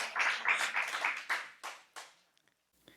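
A church congregation claps during a Sunday worship service. Dense, lively clapping fills the first moments, then breaks into a few trailing bursts and dies away into near silence.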